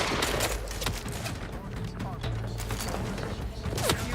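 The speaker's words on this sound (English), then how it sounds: "It's like a lever action rifle." Lever action rifle firing in the video game Outer Worlds 2, a dense run of sharp shots and mechanical clacks over a noisy game-combat background.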